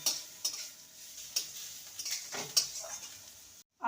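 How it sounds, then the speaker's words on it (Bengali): Grated ginger and garlic frying in a pan, with a soft sizzle punctuated by several light scrapes and taps of a spoon against the pan before an abrupt cut. "আদা রসুনটাকে ভালো করে ভেজে নিতে হবে"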